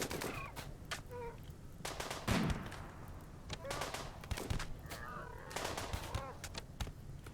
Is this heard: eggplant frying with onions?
no